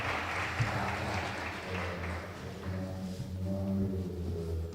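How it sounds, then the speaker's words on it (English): A summit audience at the Blue Africa Summit applauds an absent guest, a soft, somewhat distant clapping wash over a low hum, gradually thinning as it goes. "we can applaud him"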